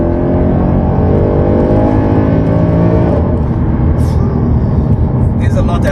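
A Mercedes-AMG Black Series engine under full acceleration, heard from inside the cabin as a loud, dense roar that holds steady and then eases, with a few faint higher sounds near the end.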